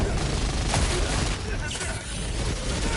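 Dense, continuous barrage of gunfire and grenade blasts in Helldivers 2, loud and close, with rapid overlapping bursts rumbling in the low end for the whole stretch.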